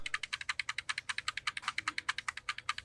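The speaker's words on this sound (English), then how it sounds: "This one in particular is a Dell computer, and we can access it through F2 on your keyboard." Rapid, even keystrokes on a Dell computer keyboard tapping the F2 key, about two dozen crisp clicks in under three seconds, close and clear with no talking.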